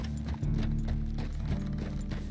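A horse's hooves clip-clop at a steady walking rhythm in the video game Red Dead Redemption 2, close and clear over low game ambience, with no talk.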